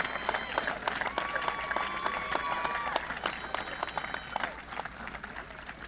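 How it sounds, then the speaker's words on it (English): A crowd at a high school graduation applauds the honor roll students with sustained clapping that thins slightly toward the end, heard at moderate distance in a large space. "how about one more big round of applause"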